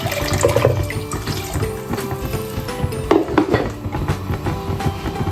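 Water runs and pours into a soup pot holding tomato for Moroccan harira, a steady splashing stream with a few louder gurgles, close by, with no talking.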